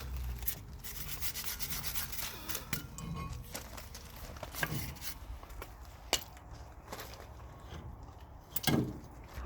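Rust is scrubbed off a Ford E450 brake caliper sliding pin, a faint, close, uneven rubbing and scraping with a few sharp clicks and knocks.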